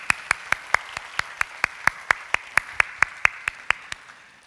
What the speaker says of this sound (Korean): 박수로 하나님 앞에.